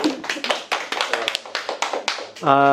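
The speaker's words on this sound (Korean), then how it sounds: "박수 부탁드리겠습니다" Audience clapping after someone shares a personal story at a church training lecture: a run of sharp, fairly quick hand claps nearby from a small group, ending as a voice begins speaking.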